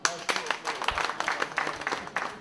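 An audience applauds again at a French-speaking supporters' gathering in the Benelux, a fairly faint, steady patter of clapping with a voice murmuring underneath.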